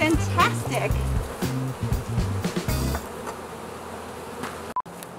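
Honeybees swarm around a hive during a hive transfer, filling the air with a dense, steady buzz close by. The buzz is heaviest at first and then thins to a softer drone, with a voice faintly audible underneath.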